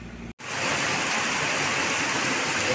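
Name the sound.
heavy rain at night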